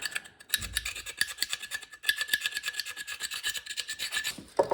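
Close-up sanding of an outboard motor's steering pivot shaft: quick, rhythmic rasping strokes scrape back and forth over a hard metal surface, with a brief pause before the strokes resume.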